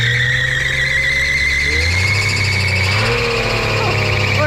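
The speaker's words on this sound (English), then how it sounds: "We're going to see how good of a skid it can do on nitrous." A car on nitrous (NOS) with a stock engine spins its tyres in a skid, giving a loud, sustained high squeal over a steady engine drone whose pitch steps up partway through, close by with no talk.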